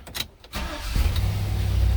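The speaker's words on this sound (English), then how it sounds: "And take the other key, start the car." A 2013 Chevy Silverado engine cranks and catches after a programmed key is turned, settling into a steady low idle rumble that holds close and loud after a brief quiet start.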